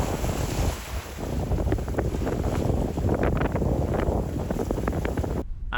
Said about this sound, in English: Really good sailing.